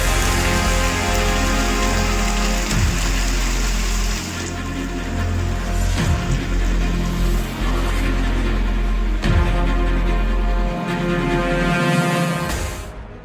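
Heavy monsoon rain pours continuously in a flooded area, a dense loud roar of falling water with no talk.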